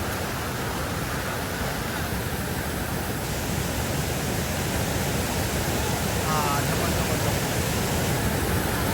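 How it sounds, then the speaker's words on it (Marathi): A waterfall roars as a dense, constant rush of broadband noise, loud and unbroken throughout, with a faint brief voice surfacing near the end. "हे बघा आता पोचलोय ही धबधब्याची मजा आहे"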